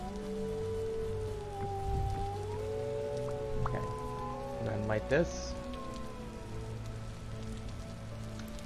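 Continuous rain in the game Vintage Story, an even patter of drops beneath someone speaking briefly, with a few soft thuds and a low rumble mixed in.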